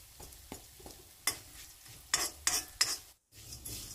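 Coriander and cumin frying in a pan for Mangalorean dry mutton sukka, a soft steady sizzle broken by a run of sharp scraping stirs and clinks of a spoon against the pan, with no voices.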